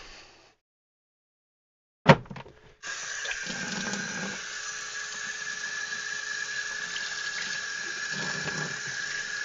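Water runs steadily from a tap for several seconds after a brief clatter, rinsing an aquarium filter, a continuous hiss and splash close by.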